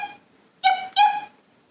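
A person imitates a small dog yipping with two short, bright vocal yips in quick succession, close and clear against a quiet background.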